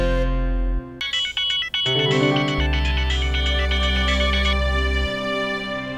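An electronic phone ringtone plays a bright, melodic tune of quick beeping notes over a steady synthetic bass, loud and close, with no talking.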